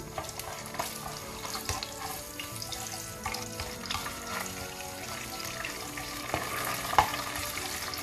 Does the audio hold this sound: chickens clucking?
no